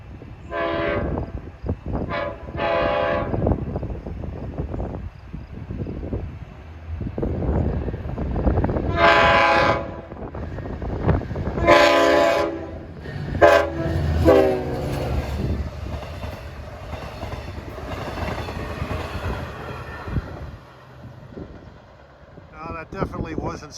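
A Long Island Rail Road train on the Montauk line rolls past with wheels clacking and rumbling, sounding several loud, long horn blasts up close, while people talk nearby.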